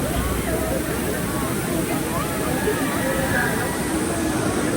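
Steady roaring rush of falling water at the Amboli waterfall fills the scene, with a murmur of crowd voices mixed in underneath.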